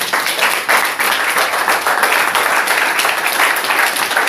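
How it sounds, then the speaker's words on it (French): A church congregation applauds, dense steady clapping at close range that runs continuously at full strength with no talk over it. "Applaudissons pour le Seigneur."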